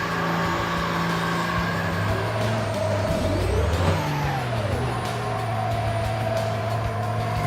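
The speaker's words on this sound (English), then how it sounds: "Is this what the Ramp Truck sounds like?" Ramp truck engine running during work on a 1957 Chevrolet Bel Air project, a loud close rumbling idle with revs that rise and fall midway, a pitch sweep, then a steady drone.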